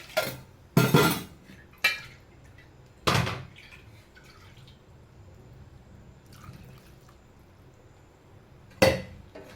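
A utensil clanks and scrapes against a metal pressure cooker in several separate bursts, with quiet bubbling and shuffling between them.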